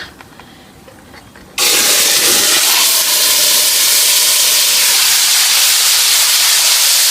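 Meat dropped into caramelized sugar in a hot pot for Dominican sancocho sets off a sudden loud, steady sizzling hiss that continues without a break after a quiet start.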